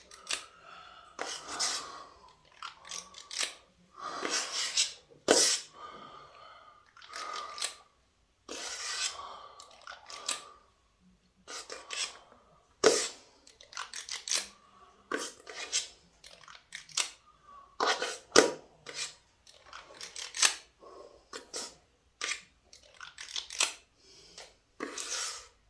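Peanut butter chocolate brownie batter is scooped in repeated short scrapes and clinks of a utensil against a bowl, irregular and close, with pauses between scoops.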